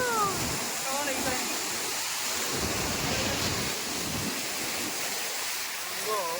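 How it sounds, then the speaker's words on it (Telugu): Water rushing through a village pond channel, a strong continuous roar with someone talking over it at times. "ఎట్లా వస్తున్నాయి చూడండి ఫ్రెండ్స్ నీళ్ళు"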